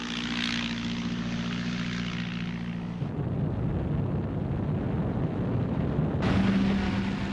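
A Gladiator fighter biplane's propeller engine drones steadily with a low rumble, shifting in tone partway through as the aircraft flies close by.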